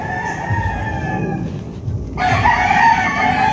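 Young stag roosters crow loudly and close, one long call fading before another bird breaks in with a sharp, bright crow.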